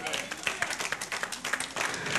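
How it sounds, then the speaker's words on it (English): A church congregation claps their hands together in praise during a sermon, a dense crackling wash of many palms at moderate distance, steady and unbroken for a couple of seconds with no clear rhythm. "Clap your hands real quick for Jesus"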